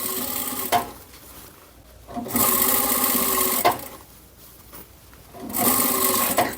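A domestic sewing machine stitches a fabric tote bag in bursts, steady rapid whirring runs alternating with quieter pauses as the cloth is repositioned, close and clear with no talk.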